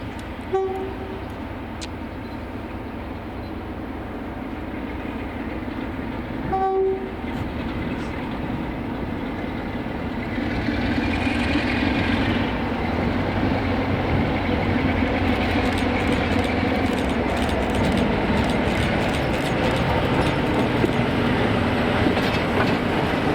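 Class 47 diesel locomotive 47-828 hauling a train from Crewe to Kilmarnock, heard passing on the rail line in Scotland with a steady engine roar and wheel clatter building over the run, plus a short horn-like tone early on.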